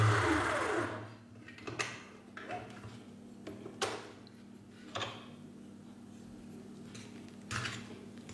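An electric mixer whips butter cream for a kefir cake at maximum speed, a steady motor whir with intermittent scraping and knocking bursts from the bowl, close and alone without talk.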